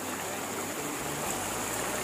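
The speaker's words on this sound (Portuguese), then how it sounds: "Olha o tanto de água que tá descendo aí na frente de casa." Heavy rainwater runs down in front of a house during a downpour, a steady broadband rushing flow like a stream, close and continuous with no talk.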